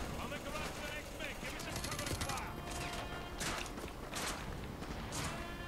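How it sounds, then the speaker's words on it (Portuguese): Gunfire in a Modern Warfare 2 Remastered match on hard difficulty, with bursts of rapid shots and sharp cracks over a dense, busy battle din while players talk throughout. "Olha os loucos atirando aqui"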